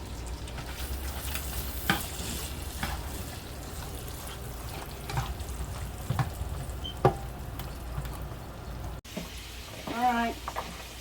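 Green beans fry in heated butter and oil with a constant crackling sizzle, scattered clacks of stirring and a short clatter near the end, while a voice talks over it.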